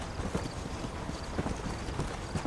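Horse hooves galloping in the video game Red Dead Redemption, a fast continuous drumming of hoofbeats under a dense, even rumble, held steady and close throughout.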